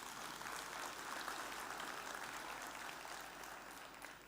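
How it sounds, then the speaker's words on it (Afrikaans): A church congregation applauding married couples, a broad steady wash of clapping from many hands, fairly soft and distant, slowly tapering toward the end with no speech over it. "kom ons gee vir hulle lekker hande klap"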